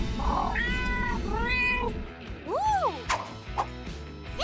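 A kitten lets out several clear meows, some rising and falling in pitch, mixed with thumps and whacks in the background.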